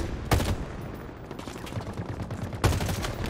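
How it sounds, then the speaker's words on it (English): Assault rifle fire in Halo Infinite, two sharp bursts roughly two seconds apart standing out over a busy game soundscape, fairly loud and close. "The assault rifle does all right at range, though."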